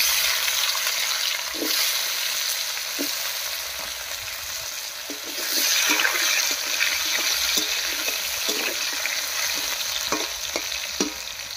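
Cut potatoes sizzle in hot oil after dried chilies, whole garam masala, bay leaf and cumin, a steady loud frying hiss up close with occasional stirring scrapes and clicks.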